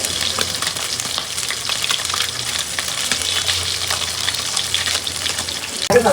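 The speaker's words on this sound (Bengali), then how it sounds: "ভালো করে ভেজে নেই, আবার সুন্দর করে এবং পেঁয়াজ দিয়ে অল্প মশলা দিয়ে ভুনা করে করি" Fish frying in a pan with onion and a little spice, giving a steady close sizzle with stirring, and a sudden louder clatter or pour at the very end, no talking.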